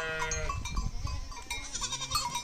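Sheep on a farm bleating loudly and close, a long quavering bleat followed by shorter cries over rustling and movement, with no voices.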